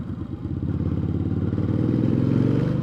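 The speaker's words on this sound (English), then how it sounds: "it's a fast motorcycle, my people. All right, let's check the gearbox. Second gear, third gear." A close VOGE CU625 motorcycle engine throbs with a fast, rough pulse, its pitch and loudness climbing steadily as it pulls hard through second and third gear.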